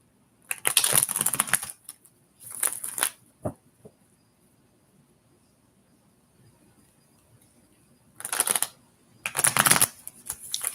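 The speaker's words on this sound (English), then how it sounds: "I always pay attention to what the cards are telling me as I'm shuffling." Tarot cards are shuffled in two separate bursts of quick riffling and flapping, loud and close, with a near-silent pause between them and no talk.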